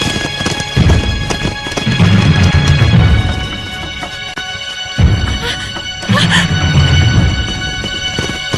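A runaway horse gallops out of control with rapid clip-clop hoofbeats and whinnying, set against dramatic music and voices in a period martial-arts drama.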